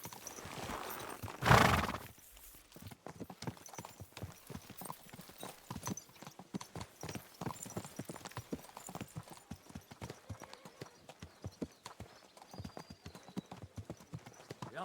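Horses' hooves clip-clop in a steady, overlapping rhythm as riders travel together in Kingdom Come: Deliverance 2, following a loud burst near the start, with a horse whinnying and faint talk in the background.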